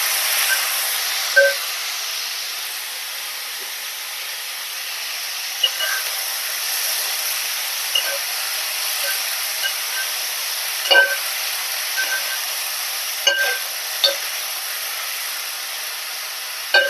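Potato and ivy gourd stir-fried in a pan for thoran with curry leaves, giving a steady soft hiss with occasional faint scrapes and clicks of stirring, no voices.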